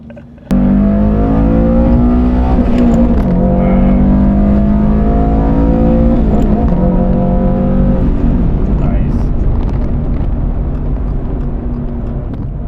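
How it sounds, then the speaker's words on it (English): A tuned Subaru BRZ fitted with an HKS setup and an anti-lag system revs and accelerates loudly up close, its engine note rising and holding steady throughout, with people talking over it. "The car is tuned, so it has a kind of like an anti-lag system."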